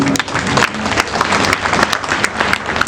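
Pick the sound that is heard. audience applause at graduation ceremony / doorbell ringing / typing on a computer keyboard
audience applause at graduation ceremony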